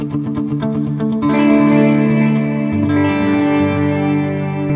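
Guitar run through an HX Stomp FX loop with a faulty mix setting, producing a warbling, hollow phasing tone on picked notes and then a sustained chord that rings on with a swirling, comb-like shimmer.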